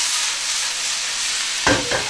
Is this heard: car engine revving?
no